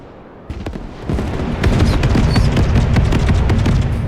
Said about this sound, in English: It's missiles, guns.